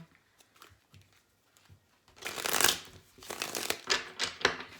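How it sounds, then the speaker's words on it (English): Tarot cards are shuffled close up, a burst of rapid riffling and papery slaps after a quiet start, several quick pulses in a row. "Let's get one more shuffle"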